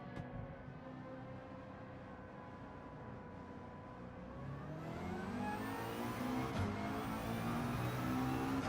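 Volkswagen Scirocco engine in Gran Turismo 7, a steady mid-pitched drone that swells and rises in pitch as the car accelerates, growing louder toward the end with no talk over it.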